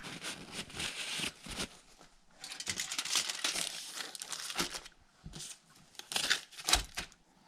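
Aluminum foil crinkles, rustles and tears in close, irregular bursts as a large lake trout is wrapped up for the oven.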